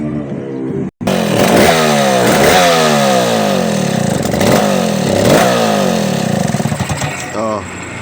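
A freshly cleaned chainsaw engine runs steadily at high idle, loud and close, with a raspy two-stroke buzz that wavers in pitch in repeating swells, starting after a brief cut near the beginning and easing down slightly toward the end.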